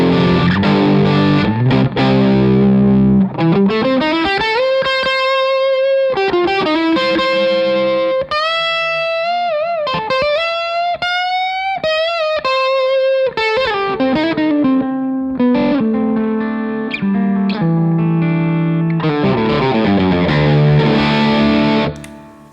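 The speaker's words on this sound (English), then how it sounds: "So the ZIO into the Golden Boy sounds like this." An electric guitar played through a Source Audio ZIO boost in studio mode into a Golden Boy overdrive, giving sustained distorted chords and single-note lines with bends and slides, loud and upfront with no talking.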